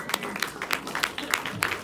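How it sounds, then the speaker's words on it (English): Audience applause for Jojo Rabbit at a Fantastic Fest Q&A, a moderate, fairly even run of sharp claps from a smallish crowd, heard at a slight distance. "a huge round of applause for Thank you so much. Jojo Rabbit"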